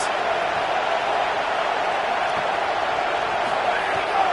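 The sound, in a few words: stadium crowd cheering during a football game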